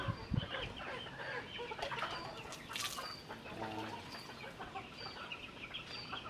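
Chickens cluck steadily at feeding time on a small farm where quails are also kept, a dense layer of overlapping calls with a few louder, sharper squawks close by.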